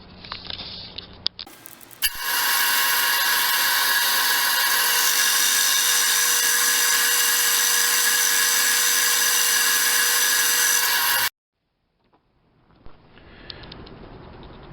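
Drill press cutting a 35mm hole for a hinge cup in a minivan camper build, a loud, steady high-pitched whine for about nine seconds that stops abruptly, with quieter shop noise before and after.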